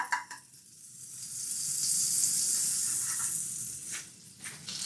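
Butter sizzles steadily in a hot frying pan as a crispy onigiri dusted with cornstarch is prepared, a continuous bright hiss that swells through the middle with a few sharper pops near the start and end.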